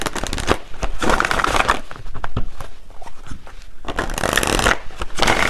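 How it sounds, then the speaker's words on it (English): Tarot cards shuffled by hand, a close, dense run of riffling and slapping bursts with brief pauses between, no talking. "Let me pull one final card and then we'll get the bowl"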